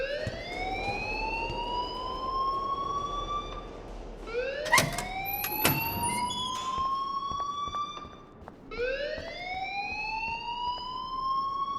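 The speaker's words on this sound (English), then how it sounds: "please turn off that alarm since that's your job" An alarm in the video game Life is Strange wails in rising, sweeping tones that repeat in long cycles, loud and close, with sharp clicks and bangs between sweeps.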